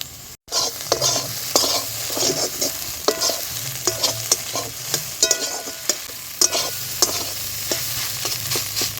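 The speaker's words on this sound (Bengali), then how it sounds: "এইটা ভালো করে মিশিয়ে নেব" Onion kachori filling with spices and besan being stirred in a pan, a steady sizzle under rhythmic scraping strokes from a spoon, close and fairly loud.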